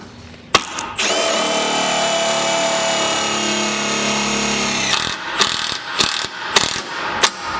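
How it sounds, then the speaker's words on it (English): A power tool, likely a drill, drives self-tapping screws into the top mounts during a Snabb front-mount intercooler install on a Volvo V70R. After a sharp click comes a steady whirring run of several seconds, then short ratcheting bursts, loud and close. "He's working on self-tappers for the top mounts right now."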